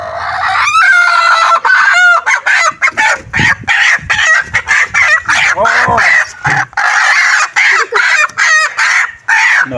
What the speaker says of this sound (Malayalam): അപ്പോൾ നമ്മൾ ആദ്യം കോഴിനെ പിടിച്ച് കാണിച്ചു കേട്ടോ